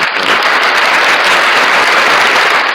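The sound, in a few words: applause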